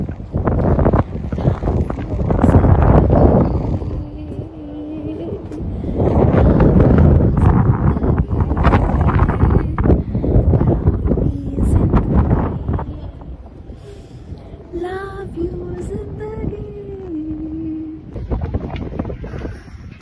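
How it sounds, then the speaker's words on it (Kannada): Strong wind at the top of Petrin Tower in Prague buffets the microphone in loud, roaring gusts with a low rumble, while a voice speaks briefly in the middle. "ಗಾಳಿ ತೂಕೊಂಡು ಬರ್ತಿದೆ ಮೇಲೆ ಇದೆ ನಮ್ಮನ್ನ"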